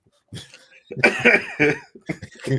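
A few short, harsh coughs in quick succession, close and fairly loud, with no other sound around them.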